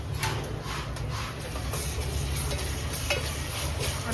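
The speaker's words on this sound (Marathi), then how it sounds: "आलं लसूण पेस्ट थोडं फ्राय करून घ्यायचं." A paste of ginger, garlic, green chili and coriander sizzles in a pan, a steady soft crackle throughout with light stirring scrapes and a low hum beneath.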